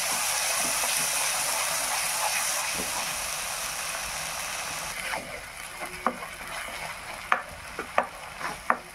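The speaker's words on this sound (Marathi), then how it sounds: "मिक्सरच्या भांड्यामध्ये वाटून घेतलेली पेस्ट आपल्याला आता परतून घ्यायची आहे चांगली." A ground masala paste for chicken curry sizzles steadily in hot oil, then the hiss fades as sharp spatula scrapes and stirring knocks take over.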